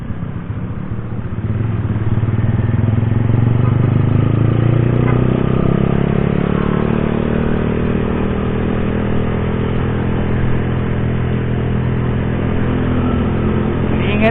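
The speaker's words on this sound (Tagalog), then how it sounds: "Ang kasama nating motor ngayon mga paps kay paring Amboy is Yamaha Mio MXI" A Yamaha Mio MXI scooter-type motorcycle rides through traffic on a group Sunday ride, its engine droning steadily and loudly with rising and falling revs, passing vehicles, and no talk.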